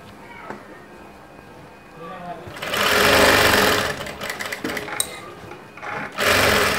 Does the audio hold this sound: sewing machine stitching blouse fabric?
yes